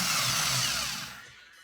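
The starter motor of an MGB GT cranks with a loud whirring grind as the solenoid engages, then winds down and fades out in just over a second.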